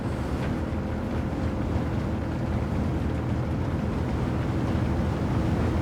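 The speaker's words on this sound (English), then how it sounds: "And now you hear the wind again." Steady, loud wind rush while driving a car in Gran Turismo 7, a continuous low roar filling the whole stretch without pause, no voices over it.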